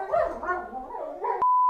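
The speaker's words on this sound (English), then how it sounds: "Even the dogs are traumatized after hearing that." Dogs howling and whimpering together in a drawn-out, wavering chorus, fairly close, ending abruptly in a steady electronic beep tone.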